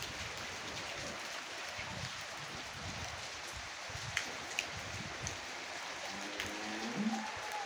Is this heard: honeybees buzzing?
no